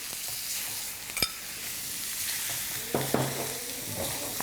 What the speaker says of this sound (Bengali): এখন আমরা এতে শাকগুলো দিয়ে দিব। নাড়তে থাকবো?